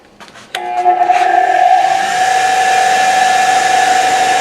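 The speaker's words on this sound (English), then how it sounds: "So I'm going to start the bench grinder here now." A bench grinder used for sharpening drill bits switches on with a click and spins up, its steady whine rising and then settling into a constant, loud hum that runs alone to the end.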